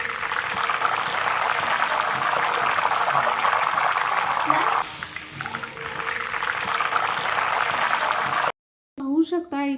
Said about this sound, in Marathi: मी पाणी शिंपडल्यानंतर तुपातून अशा प्रकारे कडकडण्याचा आवाज झालेला आहे